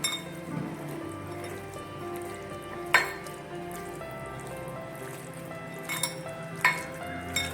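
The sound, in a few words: mixing chicken with soy sauce and tomato sauce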